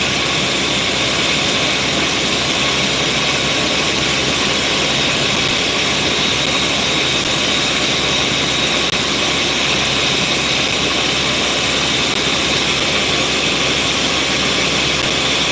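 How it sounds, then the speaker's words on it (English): A loud, steady whirring motor drones without pause, a broad harsh roar like a blender running at high speed, close by. "I'm just gonna clean this blender properly for now."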